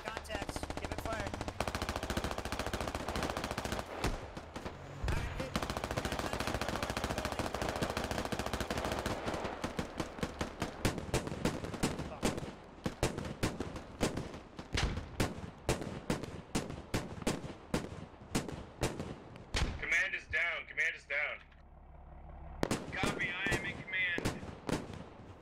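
Gunfire in the video game SquadOps: dense bursts of rapid automatic fire, sustained at first then breaking into fast individual loud cracks, with some radio-like voice chatter near the end.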